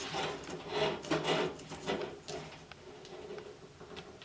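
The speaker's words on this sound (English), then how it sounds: "Right now I'm screwing in a new light bulb." New light bulb being screwed into a range hood socket, a series of soft gritty rubbing and scraping twists, close and quiet, uneven in rhythm.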